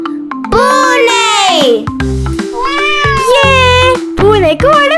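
A voice imitates a cat with several drawn-out, sing-song meows that rise and fall in pitch. The meows are loud and close, with short gaps between them.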